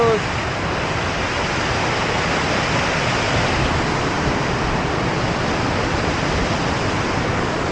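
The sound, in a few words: waterfall rushing on a mountain trail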